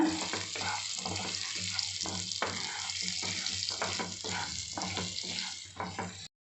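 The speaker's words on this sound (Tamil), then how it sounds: "இப்போ இந்த வெங்காயத்தை இதோட கூட சேர்த்து நல்லா கலர் மாற வரைக்கும் நல்லா வதக்கிக்கோங்க" Onions sauté in a pan for dum aloo with a continuous frying hiss and repeated rhythmic scraping strokes of a spoon, close by, before the sound stops abruptly.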